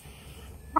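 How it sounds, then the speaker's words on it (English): A single short cluck from a mean hen that has been pecking at someone's head rings out near the end. It is brief and fairly close against a quiet background. "A mean old chicken."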